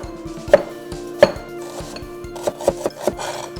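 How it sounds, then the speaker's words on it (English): A knife chops an onion on a wooden cutting board for pasta carbonara, sharp distinct thuds spaced irregularly, two strong strikes then a quicker cluster of lighter cuts, close and clear against a quiet kitchen background. "All right, Petey, let's finish this onion"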